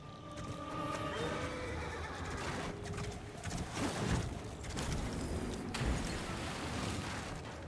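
A horse whinnies and neighs amid a busy, noisy Lords of the Fallen game soundscape with clattering hooves and scattered effects; no one speaks.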